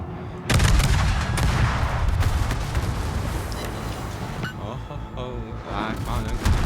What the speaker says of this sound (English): can y'all stop shooting at me for like 1 second?